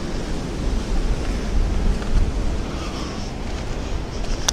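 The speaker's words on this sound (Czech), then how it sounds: "protože fakt fouká" Strong wind gusts outdoors near the Mohyla míru memorial on a motorcycle trip, buffeting a Comica microphone with a loud, continuous low rumble that swells and eases without pause.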